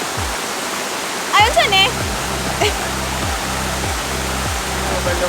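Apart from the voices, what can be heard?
waterfall, Miyaya Falls in Maragusan, Philippines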